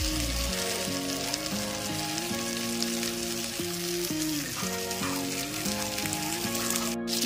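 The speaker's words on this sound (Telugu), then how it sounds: "ఇంకో సైడ్ కూడా ఇలా తిప్పుకొని మళ్ళీ ఫ్రై చేసుకోవాలి" Fish fries in a pan after being turned to cook its second side, a soft, even sizzle and crackle running beneath louder melodic background music.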